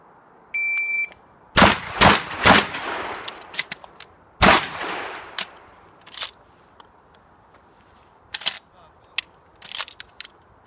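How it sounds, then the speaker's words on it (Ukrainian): Duel shooting with a handgun: a short electronic shot-timer beep, then a quick burst of loud, close gunshots with ringing tails, followed by scattered sharper cracks and clicks. "Чекаємо сигнал таймеру."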